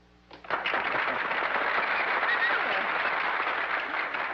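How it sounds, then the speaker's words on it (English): A studio audience in a 1950s TV drama bursts into applause, a dense, steady wash of clapping that rises quickly and holds for several seconds, heard alone without talk. "there's nothing like a little applause to brighten up the house on a moody day"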